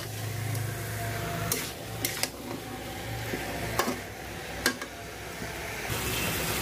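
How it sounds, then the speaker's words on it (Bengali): Meat frying with spices in a pan while being stirred, a constant sizzle broken by occasional scrapes and clacks of the spoon against the pan, close and alone. "এই যে দেখুন কষিয়ে নিচ্ছি আমি, আর সুন্দরভাবে মাংসের সাথে মশলা মিশিয়ে নিচ্ছি।"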